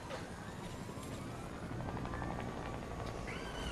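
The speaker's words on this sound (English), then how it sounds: "Hey, can I get the chopper?" A helicopter in the video game Fortnite gives a steady whirring rotor drone at moderate level that fills the short stretch, with no talking over it.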